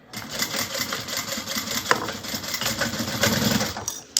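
A sewing machine runs continuously stitching a bag seam, a steady fast mechanical whir and rattle at moderate volume with no pauses.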